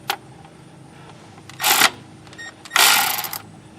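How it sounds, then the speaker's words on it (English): A 3/8 inch ratchet loosens the PTU drain plug on a 2019 Ford Edge Titanium AWD, giving a sharp click followed by two bursts of rapid, close, bright ratcheting clicks. "So we go ahead and put our 3/8 inch ratchet in here."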